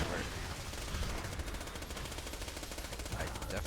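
Automatic gunfire from Borderlands 2 video game weapons, with a Siren character firing in steady rapid bursts that run throughout, fairly loud and dense, with a voice speaking faintly underneath.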